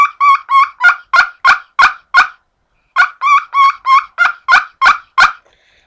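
Nail call turkey call run by hand, producing two bursts of loud, close yelping turkey clucks and yelps in quick regular series, about seven notes then a short pause and eight more, with no talking.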